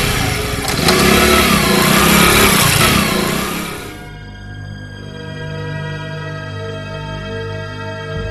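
A vehicle engine revs hard and loud for several seconds, then settles into a lower, steadier drone as it pulls away. No one speaks.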